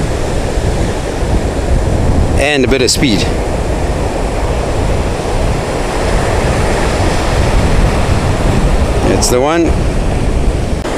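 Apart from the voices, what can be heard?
ocean waves breaking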